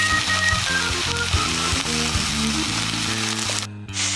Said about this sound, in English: get them sizzling in that pan